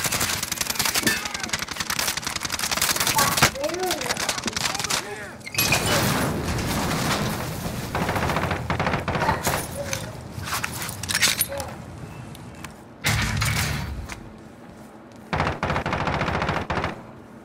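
Loud automatic gunfire in Call of Duty Warzone comes in repeated bursts with short pauses between them. Players talk throughout, and footsteps and movement noises sit underneath.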